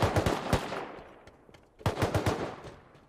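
Bursts of gunfire in Rust, sharp close shots fired in two quick volleys separated by a brief lull.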